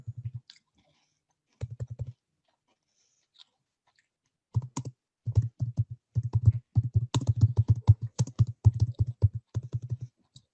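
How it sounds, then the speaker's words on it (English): Computer keyboard typing, close and clear: a few short bursts of key clicks early, then a dense, fairly rapid run of keystrokes filling the last six seconds, with no talking. "I see and hear typing."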